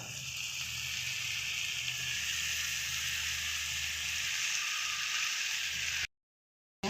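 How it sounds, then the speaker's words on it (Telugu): Brinjal pieces added to onion and ginger-garlic paste frying in a pan for a brinjal and raw mango curry, giving a continuous close hiss of sizzling with no talk, ending abruptly. "ఆనియన్ ఇప్పుడు వంకాయ ముక్కలన్నీ అందులో వేసుకోవాలి"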